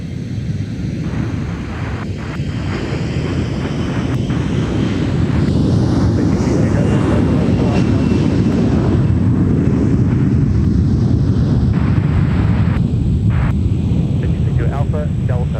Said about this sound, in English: Our Patriot 767's on the move, guys.